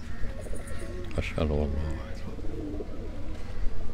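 Paired pigeons at a pigeon fanciers' gathering in Sialkot coo and call nearby in soft, rolling bursts, with a louder call in the middle, under a voice speaking intermittently.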